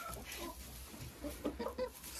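Hens cluck softly in a greenhouse coop, a few short faint calls over quiet background rustle.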